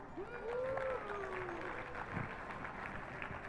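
Light audience applause at a business talk given by a singer-songwriter with a guitar, a brief scattered clapping spread across a room, with a held sung or hummed tone in front of it at the start.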